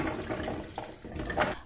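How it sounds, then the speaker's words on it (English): Water from a pressure cooker pours into a sieve in a home kitchen, a short, steady liquid rush with splashy bursts, close and moderately loud, with no talk. "and then drained the water into a sieve."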